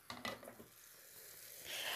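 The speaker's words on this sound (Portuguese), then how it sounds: "E vou dar uma refogada nesse tomate." Tomatoes sauté in a covered frying pan, with a few light utensil clinks at first and then a soft, steady sizzle that swells louder toward the end.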